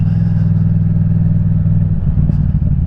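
A restricted Yamaha MT-07 motorcycle engine drones loud and close under wide-open throttle, a steady low rumble that holds throughout with slight roughness near the end.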